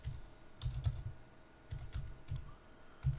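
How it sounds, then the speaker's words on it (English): Keystrokes on a computer keyboard come in short, quiet clusters of taps with brief pauses between them, close and isolated against faint background hum. "And then I'm just going to type in"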